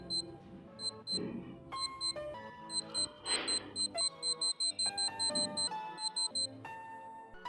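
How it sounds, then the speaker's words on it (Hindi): An Eddy Hager 800 wristwatch alarm beeps out a tinny melody of short stepped tones, repeating in quick rhythmic bursts, close and clear. "आप लोग इसे अलार्म को सुनिए।"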